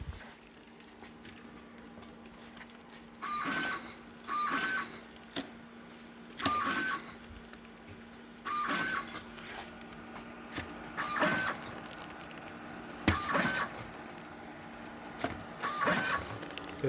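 A LAB510 labeler prints labels onto pouches fed through its input feeder, sounding as repeated mechanical bursts about every two seconds over a steady motor hum, moderately near, with no talk.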